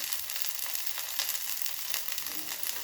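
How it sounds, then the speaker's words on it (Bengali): A paste of onion and ginger with turmeric fries in a pan, giving a continuous, even, crackling sizzle close by and fairly quiet, with no voices. "ওই জন্য মশলাটাকে পেঁয়াজ আর আদা বাটা এই মশলাটাকে একটু ভালো করে ভেজে নেব"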